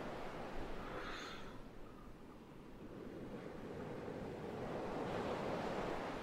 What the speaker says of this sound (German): Entspanntes Meeresrauschen im Hintergrund.